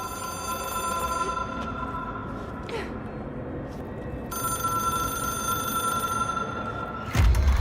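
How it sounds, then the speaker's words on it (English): A telephone rings inside the video game Control, a steady electronic bell tone repeating over a dense ambient game soundscape, ending with a sudden low thump. "It is a phone."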